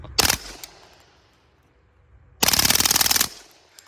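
Stribog SP45A3 .45 ACP PDW firing: a single loud shot, then after a pause a rapid, near full-auto burst of about a dozen evenly spaced rounds, with no talk.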